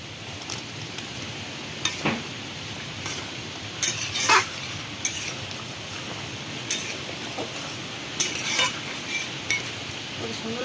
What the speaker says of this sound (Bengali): এই যে চিংড়ি মাছের বড়াগুলো এবার দিয়ে দেবো ঝোলটা ফুটে এসছে